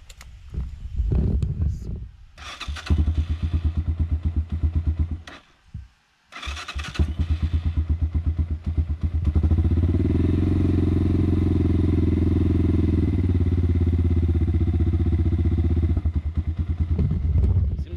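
A motorcycle that has been hard to start cranks and sputters in several close, loud attempts with short pauses between them, then catches and settles into a steady, rough idle.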